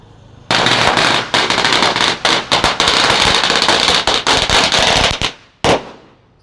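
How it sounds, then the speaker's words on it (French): Firecrackers set off by tourists at Kata Beach crackle in a loud, dense string of rapid bangs lasting several seconds, then trail off and end with a single sharp pop. "c'est un gars qui allume ça et ça fait des pétards"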